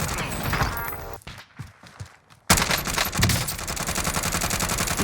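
Video game gunfire from a Krig 6 assault rifle on full auto, dense rapid bursts that cut out briefly mid-clip and then resume in a long, loud continuous spray, close and harsh.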